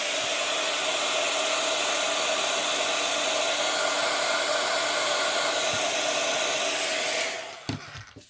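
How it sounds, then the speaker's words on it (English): A heat gun blows steadily on wet ink in a craft project, a constant loud airy whir lasting several seconds before it switches off, followed by a few soft clicks and handling sounds. "Let me hit it with the heat gun for a second."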